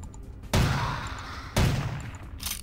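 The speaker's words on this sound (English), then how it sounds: "let me get a gun out and see if I can shoot him and get his attention" Gunfire in the video game Vampire: The Masquerade – Bloodlines, heard as two loud, close, booming shots about a second apart, each leaving a long echoing tail, with a fainter shot starting at the end.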